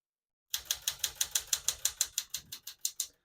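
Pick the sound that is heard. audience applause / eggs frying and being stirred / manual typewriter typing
manual typewriter typing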